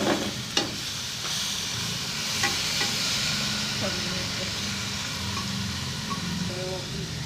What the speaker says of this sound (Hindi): अब इसमें टमाटर ऐड करेंगे हम।